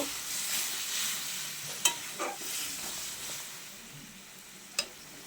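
Mushrooms cooking in a hot pan hiss in a steady broadband sizzle as a little water goes in, with a few sharp clacks of stirring near the start and end; no talking.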